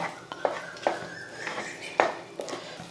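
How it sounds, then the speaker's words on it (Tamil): A spoon scraping and clinking against a pan while stirring thick palkova made from milk with ghee, several sharp knocks at uneven intervals over a steady kitchen background. "நெய் சேர்த்துட்டு ஒரு நிமிஷத்துக்கு நல்லா கலந்து விட்டுட்டு"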